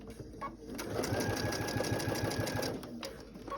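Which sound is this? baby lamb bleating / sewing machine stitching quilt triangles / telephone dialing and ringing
sewing machine stitching quilt triangles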